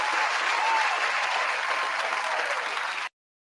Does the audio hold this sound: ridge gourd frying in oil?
no